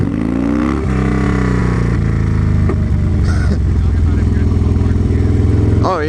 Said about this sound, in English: the rumble just pulling in the clutch